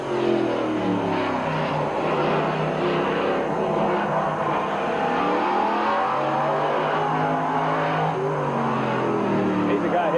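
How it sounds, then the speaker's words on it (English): A dirt track race car driven on the asphalt oval at Midvale Speedway during the 1985 fall classic, engine notes rising and falling as it laps past, a continuous buzzing roar with shifting pitch, while voices talk over it. "Dirt track car."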